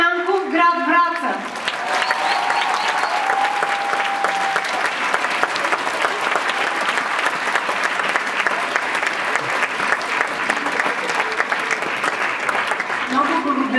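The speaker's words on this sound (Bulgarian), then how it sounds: "Много благодаря за аплодисментите, с които ни посрещнахте." An audience claps at an Easter concert given by a children's dance ensemble, sustained, full applause that runs the whole length, with a brief burst of music at the start and a voice faintly mixed in.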